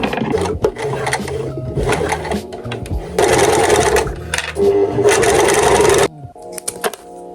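Sewing machine stitching a small keychain purse with frills, rapid buzzing bursts of stitching broken by short pauses and fabric handling, close and fairly loud.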